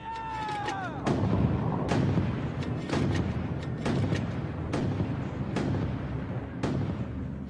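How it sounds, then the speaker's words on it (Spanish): Several heavy, booming mortar blasts land one after another at irregular intervals, loud and close, with a brief high whine near the start. "Con los disparos de mortero del pelotón de Forbes, los canadienses mantienen la línea"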